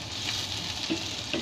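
Colored and green bell peppers sauté with onion in a hot pan, giving a steady close sizzle with a couple of light stirring knocks.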